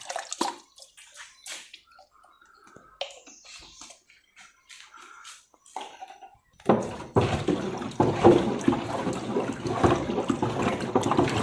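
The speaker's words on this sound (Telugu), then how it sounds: "ఇక కర్రతో కలిపేసి" A wooden stick stirs the Kavach liquid solution, a farm preparation of mixed ingredients and water: after several seconds of quiet scattered knocks, a loud continuous sloshing and swishing of liquid takes over close by.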